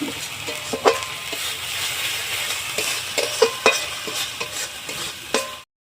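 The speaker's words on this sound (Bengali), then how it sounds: "ভালো করে ভেজে নেব মশলাটা ভালো করে ভেজে নেব" Salted spice masala for a katla fish curry frying in a pan, a steady sizzle under repeated sharp scrapes of a spoon stirring, close and clear, then it stops abruptly.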